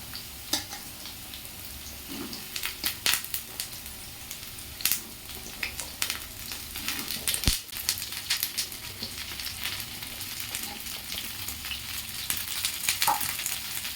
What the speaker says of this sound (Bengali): আলুগুলো ভাজা হয়ে গেছে এবার এর মধ্যে ফুলকপি বিনস গাজরটা দিয়ে দেবো